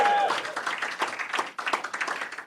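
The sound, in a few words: live audience cheering and applauding at podcast recording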